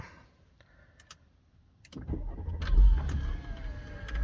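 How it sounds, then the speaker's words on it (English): A couple of soft clicks, then a 2012 Audi A6 engine turns over from a push-button start and catches, settling into a steady low rumble that swells slightly as it runs. "You got your start stop button here, so let's just do that"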